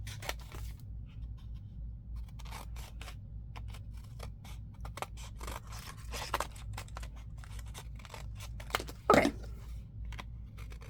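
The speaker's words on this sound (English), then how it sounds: "I like to use these scissors to cut paper" Scissors snip through paper during a junk journal craft, a series of soft, close crisp cuts and rustles with one louder crunch near the end; a voice speaks one brief word.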